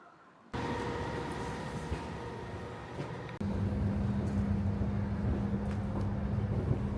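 Aboard the Caledonian Sleeper night train from Edinburgh to London, a steady low rumble of the moving carriage starts abruptly, then grows heavier and louder with a sustained droning hum, no one speaking.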